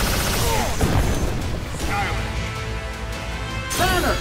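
A Proton Cannon attack in the fighting game Marvel vs Capcom Infinite fires with crashing, booming blasts under excited game voices and announcer shouts, with a sweeping tonal burst near the start and another at the end.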